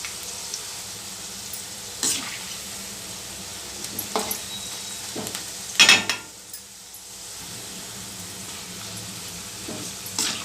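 Onion pakoda frying and roasting in a pan gives a soft, steady sizzle, broken by a few sharp clinks and stirring knocks, one of them louder near the middle.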